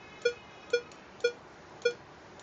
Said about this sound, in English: It's like beep, beep, beep, beep, beep, beep, beep. Each time I press it.